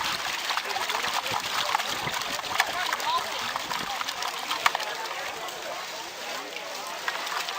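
Water and gravel sloshing and splashing in a gold pan during fast speed panning, continuous close swishing with sharp splatters and clicks, with talk in the background.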